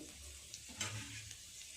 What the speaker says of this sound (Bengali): এই তেলের মধ্যে দিয়ে দেব অল্প একটু আস্ত জিরে।